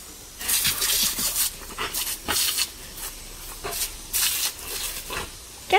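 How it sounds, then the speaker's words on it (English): A dog playing with a running garden hose on a hot day makes repeated bursts of hissing spray and splashing at close range, broken by short pauses. "Is there anything more satisfying than watching a dog play with a hose?"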